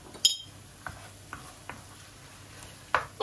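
A spoon stirs thyme and salt into a tuna pasta sauce in a pan: a few separate soft scrapes and clinks against metal, spaced irregularly, with faint sizzling underneath.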